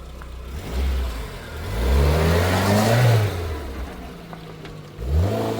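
A car pulls up nearby, its mid-pitched engine revving up and down in several swelling surges with a whirring drone between them, loud and close, with no speech.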